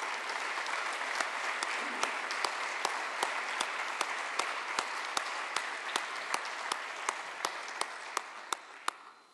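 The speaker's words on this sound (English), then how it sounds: "Let's give a round of applause for the new 900 schools as displayed" An audience at a county schools education address applauds schools reaching a 900 API score, steady applause with a few sharp individual claps standing out and tapering toward the end.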